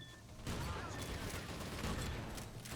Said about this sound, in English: Let's give us the old shotgun for this one.